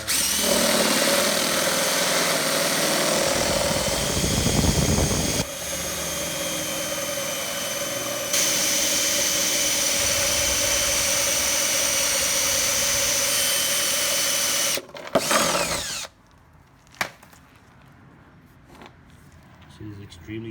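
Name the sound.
drilling out intake manifold bolt with Home Depot drill bit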